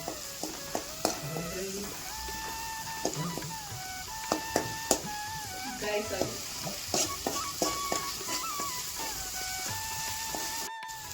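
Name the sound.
masala frying in oil, being stirred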